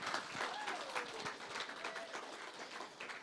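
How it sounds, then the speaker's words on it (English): An audience claps at a programme showcase event, a steady patter of applause running the full length with a voice speaking faintly over it. "I've got in here now as a pause to clap."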